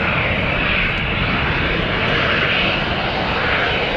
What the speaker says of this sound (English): this is a KLM Boeing 737 taking off in front of us